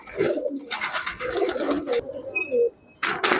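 Pakistani Giribaz high-flyer pigeons coo in low, rolling bursts close by, mixed with people talking and a brief whistle-like tone near the end.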